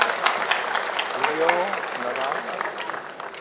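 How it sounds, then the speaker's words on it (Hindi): Audience applause at a film studio and allied workers' union gathering, a soft, continuous patter of clapping with a voice speaking over it. "इनका सबका जोरदार तालियां बजा करके आप अभिनंदन करें"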